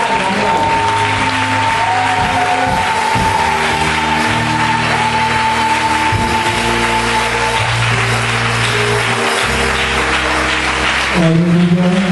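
A church congregation claps and cheers for the Lord in a loud, continuous burst of applause that fills the room, with steady sustained tones from instruments or organ running underneath.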